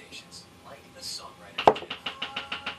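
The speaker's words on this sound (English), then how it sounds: "oh, somebody's knocking" Knocking on a door, a sharp loud knock followed by a run of about six evenly spaced raps, preceded by soft indistinct sounds.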